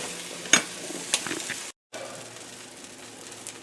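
An omelette in bread sizzles in a buttered cast iron pan, a soft steady hiss with a few sharp clinks near the start, a brief dropout, then the quiet frying continues close up.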